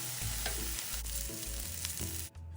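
Vermicelli stir-fried in a wok with fish sauce, chicken and egg, a steady loud sizzle with repeated scraping tosses of the noodles against the pan, close and continuous, ending in a brief drop.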